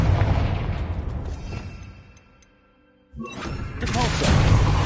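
In Hogwarts Legacy, a Confringo blasting spell bursts with a loud, broad rumbling explosion that fades into near-silence, then a second sharp blast hits and a heavy roar builds.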